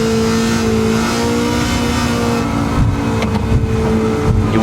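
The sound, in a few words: car engine revving in a drag race, from a video game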